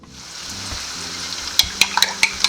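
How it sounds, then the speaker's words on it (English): Steady sizzling of an egg frying in a pot, with sharp crackles and pops growing more frequent toward the end, close and fairly loud. "So definitely this is about frying egg."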